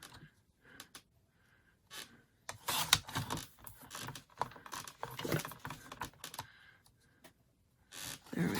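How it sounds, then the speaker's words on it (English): A paper trimmer slices through card stock for a pop-up matchbox papercraft card, heard as quiet clicks and scraping strokes in irregular bursts, with a denser stretch of cutting in the middle, close up and soft. "So I'm going to go ahead and cut this with my trimmer."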